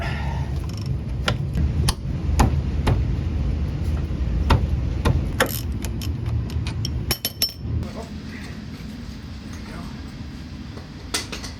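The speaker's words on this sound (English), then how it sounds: "I'm gonna use a bigger ratchet." A ratchet loosens a 17 mm brake caliper bolt on a Toyota Sienna, giving sharp, repeated metallic clicks over a steady low hum, while a person talks nearby.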